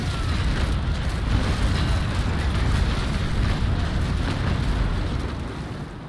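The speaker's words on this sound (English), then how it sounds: "A nicely executed broadside." A sailing warship looses a cannon broadside in the Naval Action game, a dense, sustained low roar of booming shots that swells and slowly fades over several seconds, with no voices on top.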